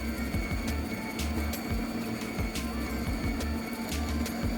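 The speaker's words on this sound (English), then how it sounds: "I add my beans, select a fine grind setting, and grind directly into the portafilter." An AMZCHEF (COFIBREWS) grinder on a fine espresso setting grinds coffee beans straight into a portafilter, giving a steady, continuous motor whir with a low hum and rhythmic pulsing throughout.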